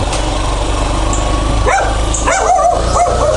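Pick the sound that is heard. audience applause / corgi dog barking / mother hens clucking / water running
corgi dog barking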